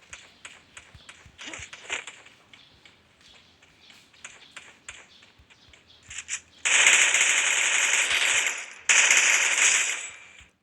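Gunfire from a shooting video game: scattered light clicks and shots at first, then two long, loud bursts of rapid automatic fire near the end, with a short break between them.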